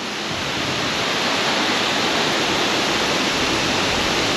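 Tinuy-an Falls roars in a loud, unbroken broadband rush of falling water, even with the flow running low, steady and close throughout with no talking.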